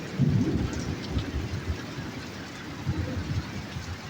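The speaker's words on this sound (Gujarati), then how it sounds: "વીજળીના કડાકા ભડાકા" Rain pours steadily during a fierce night storm while low rolling thunder rumbles underneath, swelling early on and again later, with no voices.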